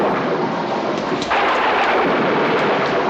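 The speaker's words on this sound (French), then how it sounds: "Ah, les mêmes éclairs qu'au château de Lord McRashley" Loud rumbling thunder with a sharp crack of lightning partway through, steady and close in a film soundtrack, with rain-like noise filling the background and no voices.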